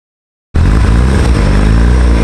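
The rotary engine of TJ Hunt's Mazda FD, heard before its 20B swap, cuts in abruptly after a short silence and settles into a loud, close, lumpy idle with a steady throbbing pulse.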